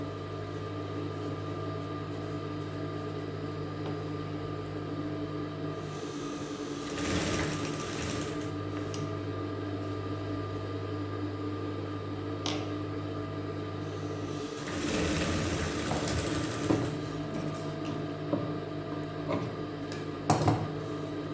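A sewing machine stitches the shoulder seam of a petticoat in two rapid whirring bursts, a few seconds each, over a steady background hum with quiet gaps between runs.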